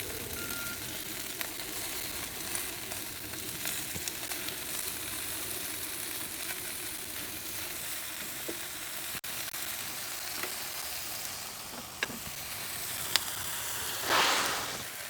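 Chicken wings sizzle on a Ninja Woodfire Grill in a steady, close hiss with faint crackles, swelling into a brief louder burst near the end; no one speaks.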